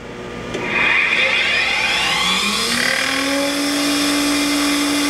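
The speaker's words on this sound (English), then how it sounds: "So that's the ID grinding wheel." Internal grinding wheel on a Myford MG12-M grinder spinning up from rest, a rising high whine that climbs in pitch over the first few seconds and then holds a loud, steady scream with a mechanical hum underneath.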